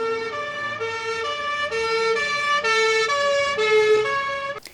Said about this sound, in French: si la voiture est en mouvement, alors la fréquence du son devient plus élevée lorsqu'elle se rapproche de l'observateur et devient plus grave lorsqu'elle s'en éloigne